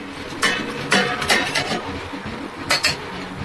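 Metal pot lid lifted while chicken cooks, producing several sharp clinks and clanks of metal cookware, close and fairly loud, with quiet kitchen background between.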